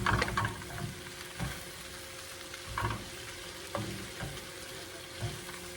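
Rice is tossed and frying in a pan on a burner, a steady close sizzle broken by periodic scraping stirs and pan shuffles, with no talking.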